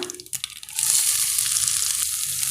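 Onion, mustard seeds and dried red chilies sizzling in hot oil, starting with a brief clatter as they drop into the pan, then a steady close frying hiss that holds to the end with no talk.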